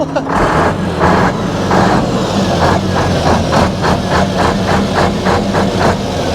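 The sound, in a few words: Iveco truck engine revving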